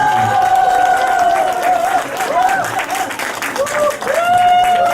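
An audience of seniors at a lifelong-education event claps to welcome a speaker to the stage, with dense applause and crowd noise under loud tonal music or voices.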